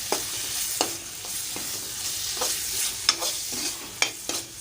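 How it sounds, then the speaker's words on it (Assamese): Food frying in a pan while being stirred, with a soft steady sizzle and repeated sharp scraping and clacking stirs at an irregular rhythm, close and without any talk. "এয়া মই এইখিনি লৰাই থাকিম আৰু অকণমান দেৰি।"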